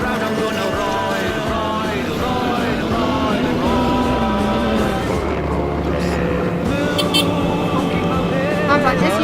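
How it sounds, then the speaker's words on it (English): A moped rides along a road in India around Hampi, its small engine droning steadily with wind and road noise throughout and shifts in pitch as it moves along. "when I get me moped out on the road"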